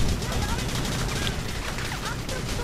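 Machine gun fire in the video game Battalion Wars, a continuous dense rattle of shots layered with loud battle noise throughout, with no clear breaks.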